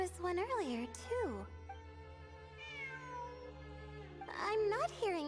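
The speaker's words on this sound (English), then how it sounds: "It really is a cat." Cat meowing in Genshin Impact, several drawn-out rising and falling meows near the start and again at the end, with a person talking over the middle part.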